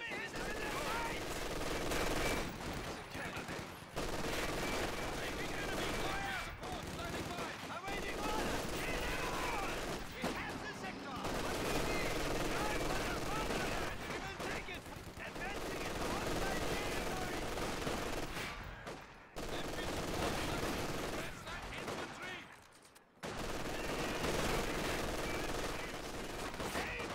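An MG-42 machine gun fires in a World War II strategy game, in long sustained bursts that continue nearly throughout, over steady battle noise with game voices calling out beneath.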